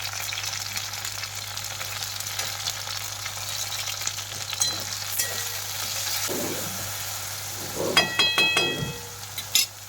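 Tomatoes and green chillies sizzle and fry in a hot pan, a constant crackle with a few louder scraping stirs toward the end.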